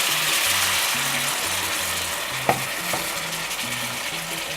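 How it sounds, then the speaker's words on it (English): Beef broth splashes into onions frying for Dutch meatball gravy, bringing a steady close sizzle with stirring and a sharp utensil clink midway, with no voices. "Let's add a bit of beef broth."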